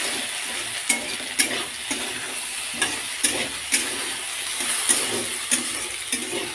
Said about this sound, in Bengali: এখানে আলুটা ভাজছি।